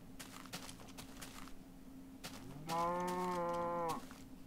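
A single cow lets out one long, clear moo in Minecraft, rising over faint background clicks and footsteps before stopping abruptly.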